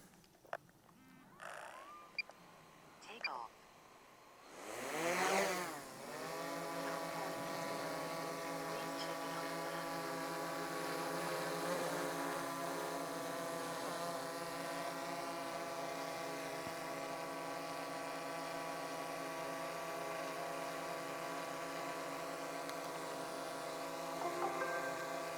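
A DJI drone lifts off under remote-controller control, its motors spinning up from quiet into a loud, steady multi-tone whine that holds close and constant, with a few faint clicks before the spool-up.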